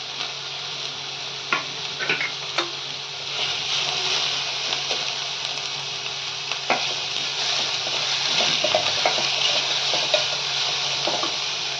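Two medium onions, finely chopped, sizzle steadily in a hot pan for a Malvani dry shark fish dish. The frying hiss runs close and even throughout, broken by occasional sharp clinks and scrapes of stirring.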